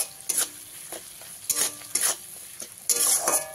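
Tomatoes with salt being stirred and fried in a pan for a vegetarian okra dish, a soft sizzle under repeated bursts of spatula scraping and clatter that come in uneven strokes.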